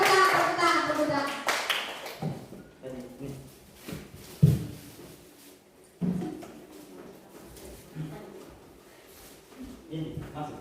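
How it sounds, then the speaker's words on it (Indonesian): Schoolchildren clapping as an audience during a talk at an elementary school in Alor Barat Daya: bursts of hand claps mixed with children's voices and an adult speaking, with sharp taps and pauses between. "tepuk tangan."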